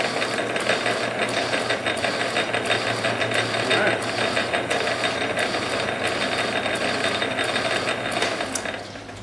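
A shop machine runs in back gear on a newly fitted pulley, giving a steady mechanical whir with fine ratcheting, gear-like clicks throughout, fairly close and continuous, easing off slightly at the very end.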